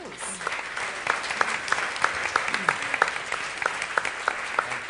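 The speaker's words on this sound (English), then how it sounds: "A round of applause." A school awards audience claps for student quiz contestants, with sparse, distinct hand claps ringing out over a busy room and a voice talking in the background.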